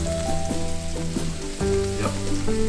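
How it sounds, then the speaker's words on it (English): Steady crackling sizzle of mushrooms frying in hot oil, continuous and close, with tonal background music running underneath. "Yep, let them sizzle."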